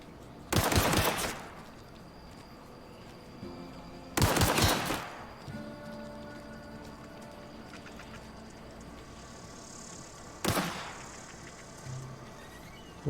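Video game gunfire: three separate loud bursts of rapid shots, each under a second, spaced several seconds apart, with a quiet hum between them and no talking.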